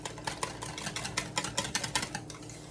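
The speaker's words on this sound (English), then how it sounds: "and then I use a whisk" A whisk rapidly beats fry sauce of mayonnaise and ketchup in a bowl, making quiet, rhythmic clicking taps against the sides, close up with no talk.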